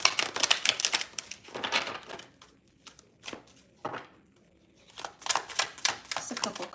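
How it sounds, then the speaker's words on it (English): Tarot cards being shuffled during a live reading, giving quick papery riffling and clicking bursts that come in two clusters separated by a quieter gap. "I shuffled the wrong one. Let me shuffle this real quick, Lucas."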